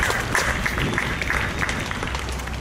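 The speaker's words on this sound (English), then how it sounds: "give us a big round of applause" Crowd applause at a gathering as a speaker is brought up to the stage, steady overlapping clapping at moderate loudness with a low rumble of the room underneath, lasting throughout with no pause.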